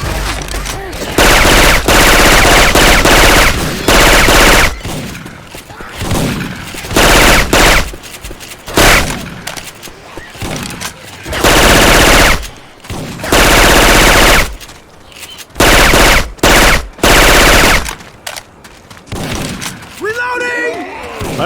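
Syphon Filter weapon sounds ring out in a Left 4 Dead 2 match: loud, rapid bursts of automatic gunfire come in repeated volleys with short gaps, and voices call out between them.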